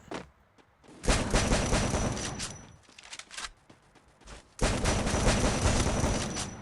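Bursts of rapid gunfire from the video game Free Fire, two long loud volleys separated by quieter single shots and scattered pops, dense and close.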